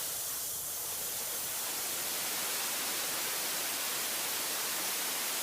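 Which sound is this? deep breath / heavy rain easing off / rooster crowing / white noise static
white noise static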